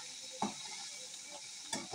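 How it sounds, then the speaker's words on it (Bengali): Shrimp frying in a pan in a home kitchen gives a faint, steady sizzle with a couple of soft stirring scrapes, close and quiet, and no talking. "চিংড়ি মাছটাও ভাজা হচ্ছে"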